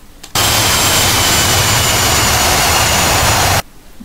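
Aircraft jet engine in the flight game DCS World, a loud steady roaring whine with a high tonal line that cuts in abruptly and stops just as abruptly after about three seconds.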